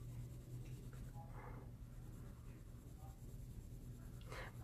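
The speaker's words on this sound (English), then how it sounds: "I'm kind of coloring with the side of my pencil just to get a nice light layer down." Colored pencil laid on its side shading lightly across paper, a soft continuous scratchy rasp with faint broadband strokes, close and quiet over a steady low hum.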